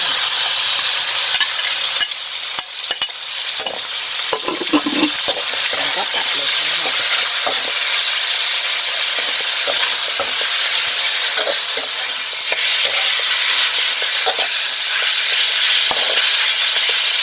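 Pork sizzling loudly as it is stir-fried in a pan with garlic for a quick kale and pork dish, a dense, constant hiss close up with repeated scraping and clatter of a spatula, especially early on.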